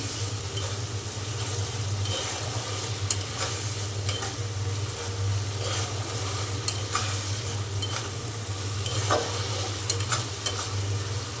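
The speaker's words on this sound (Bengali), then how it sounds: "এখন পাঁচ আবার মশলার সাথে খুব ভালো করে আমি কষিয়ে নেবো" Prawns sizzle loudly in a pan with spices, a continuous frying hiss broken by repeated scraping and clinks as the mixture is stirred, with no voices.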